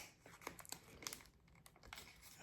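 A plastic pack being torn open by hand, giving quiet, close crinkling and tearing in short irregular bursts with small crackles, alone and faint.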